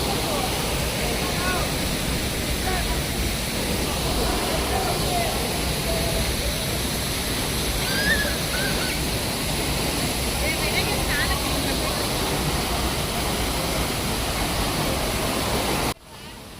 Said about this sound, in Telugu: hidden gem of Wayanad సూచిపార water falls చూస్తున్నారు కదా